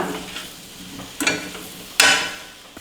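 Drumstick pods fry in oil in a pan, making a continuous sizzle with two louder bursts as the pieces are stirred or tossed, close up.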